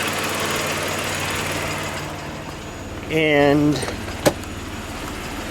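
A Chrysler Imperial engine idles steadily with a low, continuous hum, heard close while a voice talks over it. Partway through there is a brief tonal whine and a sharp click.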